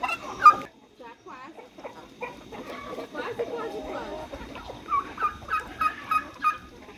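A farmyard turkey gobbles near and loud on a rural smallholding, giving a burst early on and then a rhythmic run of repeated gobbles toward the end, with other bird calls and a voice mixed in.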